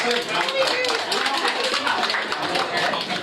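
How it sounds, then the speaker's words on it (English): Audience clapping at a hypnotist's birthday party show, a dense, steady burst of applause from a group that continues unbroken for a few seconds at close, loud level. "Now let's clap for Carly"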